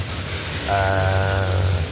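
Steady rain falling continuously during the rainy season, a constant wash of noise with a low hum and a faint tonal drone joining partway through.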